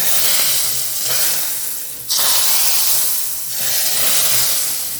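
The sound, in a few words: black pepper sizzling in hot browned butter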